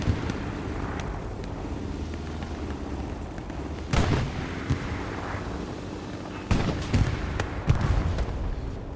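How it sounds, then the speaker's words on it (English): A T-34 tank explodes in a Hell Let Loose battle at Kharkov, with two loud booms standing out from a steady rumble of distant artillery and gunfire. "Explosion happens in front of us. That was a T-34 knocked out"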